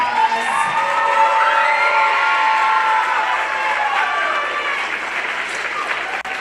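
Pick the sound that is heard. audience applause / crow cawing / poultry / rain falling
audience applause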